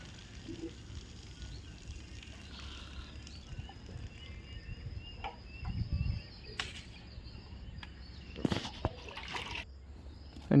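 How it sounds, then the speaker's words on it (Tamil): Water is poured out for cows on a farm, a soft trickling and splashing stream running low under ambient noise, with a few louder clunks and splashes toward the end. "மாட்டுக்கு தண்ணி விடுவோம்"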